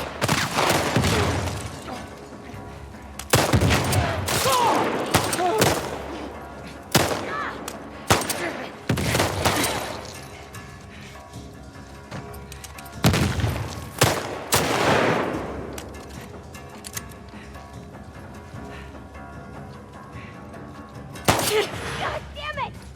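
Gunfire erupts during an ambush in a first-person shooter's No Return daily run: loud, dense volleys and rapid bursts come in repeated waves, with a player's voice shouting over them.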